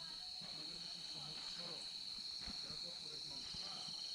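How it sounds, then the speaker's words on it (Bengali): Crickets chirp at night around an eco resort in Sreemangal, a continuous high, even trill that runs throughout at low volume, with faint voices and small sounds underneath. "শুনতেছেন ঝিঝি পোকার আওয়াজটা"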